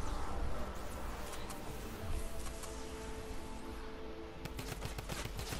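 Typewriter assault rifle from Fortnite Save the World firing in long rapid bursts, dense and continuous, with sharp, evenly spaced shots most distinct toward the end.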